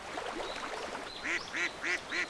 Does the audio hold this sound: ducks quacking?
yes